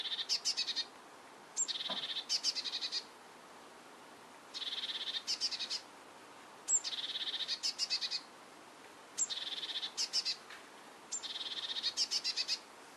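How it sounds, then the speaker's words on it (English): A male bird keeps up a constant twittering call, repeated bursts of rapid high chirps separated by brief pauses, steady and fairly close over a faint background hiss. "The male keeps up a constant twittering call."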